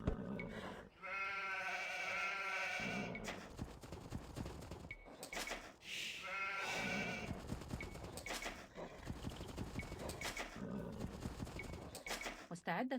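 Sheep bleating in a real-time strategy game, several drawn-out bleats in separate bursts, mixed with farm-animal sounds and game noise, while someone talks over much of it.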